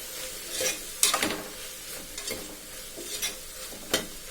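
Tomatoes sauté in a pan for mutton kulambu, with soft frying sizzle under repeated stirring strokes and scrapes, several sharp bursts spread across the clip.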